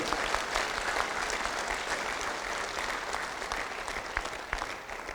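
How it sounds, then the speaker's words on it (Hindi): An audience claps steadily, a dense patter of applause from many hands lasting several seconds before tapering slightly. "एक जोरदार ताली हाँ सबके लिए।"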